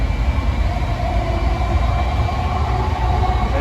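A steady rumble and rattle of the JFK AirTrain airport people mover running on rails, continuous and close, with a faint high whine over the low roar.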